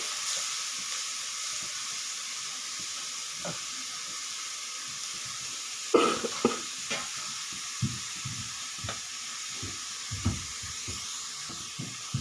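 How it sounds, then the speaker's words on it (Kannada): Sliced beetroot sizzles and crackles in hot oil as it is stir-fried in a pan, with a continuous hiss under repeated clanks and scrapes of the stirring spoon that grow busier partway through. "ಈಗ ಎಣ್ಣೆ ಚಟಪಟ ಅನ್ನುತ್ತಿದೆ ಹೀಗೆ ಬೀಟ್ರೂಟ್ ಹೆಚ್ಚಿದೆ ಬೀಟ್ರೂಟನ್ನು ಸ್ವಲ್ಪ ಸ್ವಲ್ಪ ಆಗಿ ಬಾಂಡೆ ಒಳಗೆ ಹಾಕಿ"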